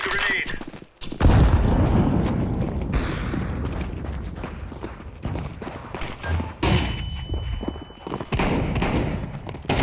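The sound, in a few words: grenade thrown in the video game Counter-Strike 2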